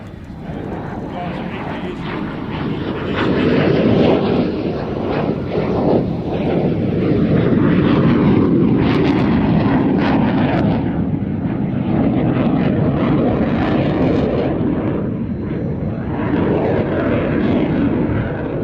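Black Eagles aerobatic team jets roaring overhead at the Royal International Air Tattoo, a loud broad engine rumble that swells and holds steady throughout, with voices mixed in.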